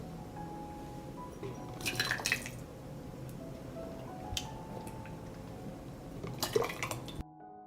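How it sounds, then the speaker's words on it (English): Soft wet glugs and drips as hot cooked tomatoes are poured into jars, with a few clinks of glass and utensils in a quiet room. "I pour hot tomatoes into jars."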